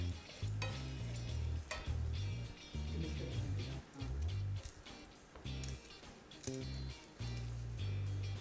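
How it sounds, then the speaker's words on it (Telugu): Cumin, mustard seeds and asafoetida crackle and sizzle in hot oil as a tempering is stirred, a steady frying hiss with scraping stirs and little pops, close and fairly quiet. "పోపు వేగింది."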